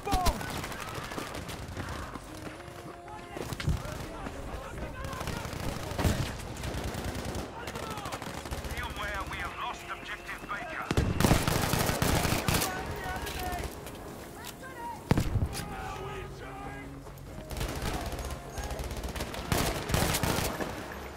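Gunfire in the video game Battlefield V: dense rapid bursts and single shots crackle throughout, loud and fairly close, with heavier volleys around the middle and near the end. A player's voice talks over the shooting and background game music.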